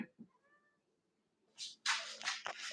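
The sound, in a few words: cats meowing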